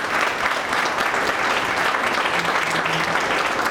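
A crowd at a creative-spaces community event applauds three speakers, producing loud, dense, continuous clapping that fills the room evenly from start to finish.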